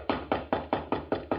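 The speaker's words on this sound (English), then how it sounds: "Just going to let him knock." Seven evenly spaced knocks on a door in a steady rhythm, each a dull hollow thud that fades quickly, moderately loud and heard alone.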